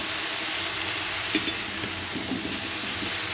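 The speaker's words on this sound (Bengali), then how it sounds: "ভালো করে একটু ভেজে ভেজে নেবো তরকারিটা" Mixed vegetable curry with a pinch of turmeric frying in a pan, a steady low sizzle with a couple of brief scraping clinks of the spatula partway through.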